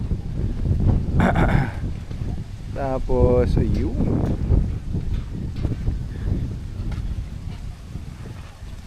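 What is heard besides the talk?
strong wind blowing at a hilltop campsite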